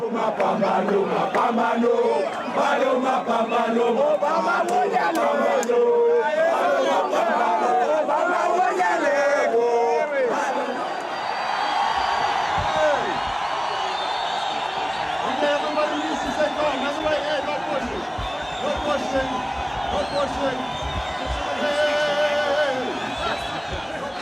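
A huge crowd in a small African town cheers and shouts in greeting, loud whoops and roaring voices swelling together, with a voice speaking over the noise at first.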